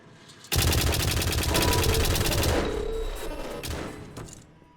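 Turrets open fire in the game White Knuckle, a loud, sustained rapid burst of gunfire that starts abruptly and slowly fades over a few seconds, with no talk.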